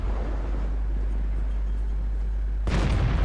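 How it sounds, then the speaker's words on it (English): A World of Tanks cannon shot hits the side of a house with a sudden loud blast near the end, following a steady low engine rumble and battle ambience. "We didn't quite manage to put this shot into DW2 because it hit the side of the house."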